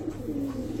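A pair of large Raj Golla pigeons kept for breeding give a brief, close, low coo, a soft murmuring tone lasting under a second.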